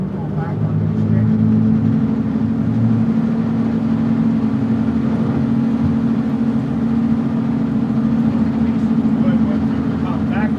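A motorboat engine on an Idaho river holds a steady, loud low drone under a throttle increase, running continuously throughout while a person talks over it.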